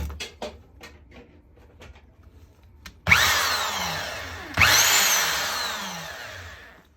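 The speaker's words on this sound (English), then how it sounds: "this will be a good good drill" An old used Skil power drill from an estate sale whirs up loudly twice after a few light handling knocks, each burst starting sharply, then spinning down gradually.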